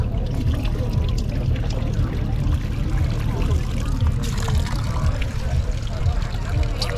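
Fresh drinking water pours and trickles steadily at an outdoor festival tap, a continuous splashing stream with a low background rumble and some talking underneath.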